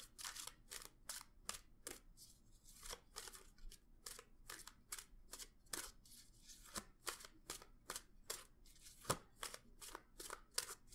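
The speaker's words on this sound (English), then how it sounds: "Shall we continue with the shuffling then?" Tarot or angel cards being shuffled by hand, a quick rhythmic series of crisp riffling flicks and snaps repeating across the whole stretch, close and quiet with no voices.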